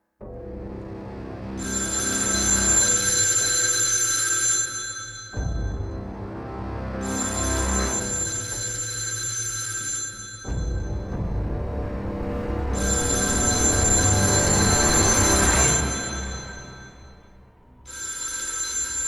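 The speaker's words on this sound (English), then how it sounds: "We heard the phone in the kitchen downstairs begin to ring." A telephone rings in a kitchen downstairs, its bell-like trill repeating in regular bursts over a low rumbling background, steady and moderately distant.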